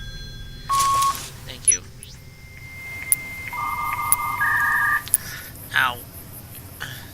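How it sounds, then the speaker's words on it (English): Electronic telephone beeps from Fallout: New Vegas ring out in short repeated tones and steady held notes over a low background hum, with a brief spoken phrase in between. "That phone noise is annoying, but let's take the phone to the shooting range."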